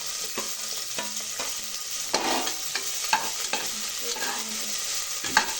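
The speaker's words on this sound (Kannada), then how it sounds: "ಚೆನ್ನಾಗಿ ಫ್ರೈ ಆಗೋವರೆಗೂ ಚೆನ್ನಾಗೇ ಬಾಡಿಸ್ಕೊಳ್ಳಿ" Chopped onions fry in hot oil inside a pressure cooker, a steady close sizzle broken by scraping stirs and occasional clinks of the spoon against the metal pot, with no talking.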